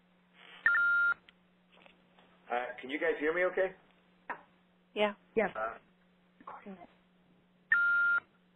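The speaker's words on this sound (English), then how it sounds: "I'm hearing crazy bleeps on the line here" Sharp electronic bleeps and tones cut in on a conference call telephone line, with two loud steady beeps at the start and end and short tones in between, while several people speak over the line.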